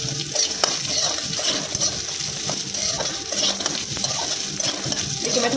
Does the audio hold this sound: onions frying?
yes